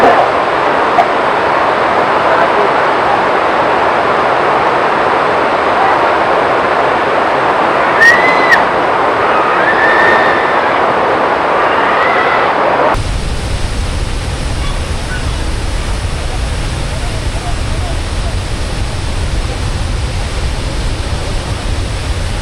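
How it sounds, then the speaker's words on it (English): Athirapally waterfall in Kerala running heavy during the monsoon, a dense steady roar of rushing water that holds constant throughout, turning deeper and more low-pitched partway through. "the flow of waterfall is like"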